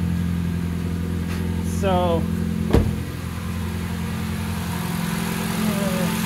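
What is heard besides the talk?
car engine running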